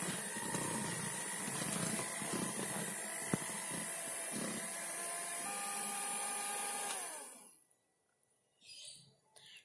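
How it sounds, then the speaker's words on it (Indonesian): Electric hand mixer running on its lowest speed through cake batter, a steady whirring motor hum that stops abruptly near the end, followed by faint rustling. "saya menggunakan mixer saja. Dan kita mixer dengan kecepatan yang paling rendah saja sampai semua bahannya tercampur rata"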